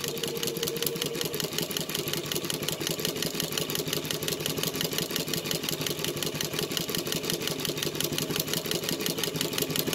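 A Mannan chain stitch embroidery machine runs steadily, stitching a short-length fill into denim with a fast, even mechanical chatter that stays loud and close throughout, with no voices.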